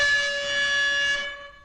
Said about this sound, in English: Oh, that's the siren.